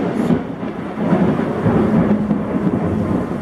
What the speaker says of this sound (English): It's thundering really bad outside right now.